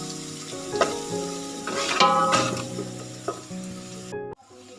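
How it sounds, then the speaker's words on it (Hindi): Garlic and ginger fry in a pot with a steady sizzle, joined by scraping stirring strokes and clinks of a utensil, moderately close, before cutting off abruptly near the end. "इसको हम इसमें 2 मिनट के लिए भून लेंगे ताकि लहसुन और अदरक की जो स्मेल है वो ख़त्म हो जाए"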